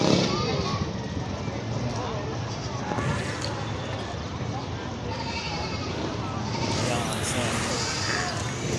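Goats bleating in the goat pens of the Padre Garcia livestock auction market, mixed into steady crowd chatter and market bustle that runs throughout, with talk nearby.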